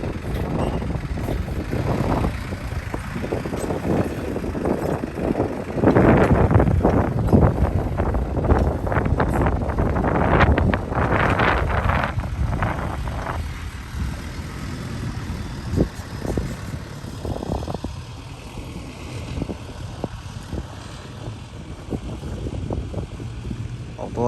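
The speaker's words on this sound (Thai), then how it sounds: "ลมแรงมากครับ" Strong gusts batter the microphone at a dirt dump site where a Hino 145 truck works, loud buffeting rumbles swelling and easing for the whole stretch, with a faint engine drone beneath.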